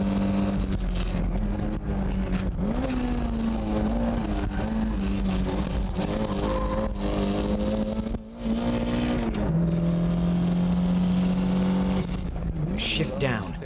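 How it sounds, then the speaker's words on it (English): Toyota car engine at full throttle, a steady loud drone that rises with the revs, dips briefly at a gear change, then climbs again near the end, with a voice talking over it. "I'm flooring it."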